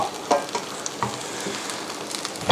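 Catfish curry is stir-fried in a pan, a continuous sizzle broken by several sharp scraping stirs of the spatula, close and moderately loud with no voices.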